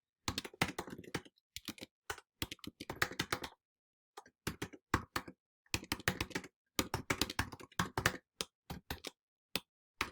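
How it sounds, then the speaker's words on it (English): Computer keyboard typing in a quiet room, with bursts of rapid clicky keystrokes separated by short pauses, close and fairly soft. "I can't type today."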